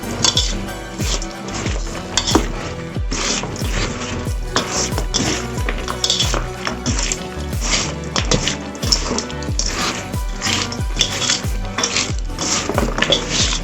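Raw mutton worked by hand with spices in a metal bowl, giving steady wet squelching and slapping with clinks of the vessel, close and continuous for the whole stretch.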